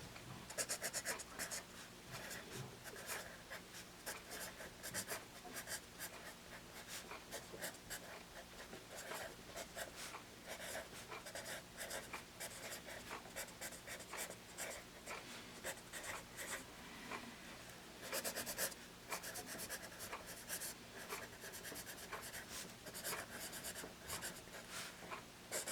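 A Musgrave Test Scoring pencil writing on paper, a steady close scratching of graphite strokes running continuously with small bursts and pauses, no voices.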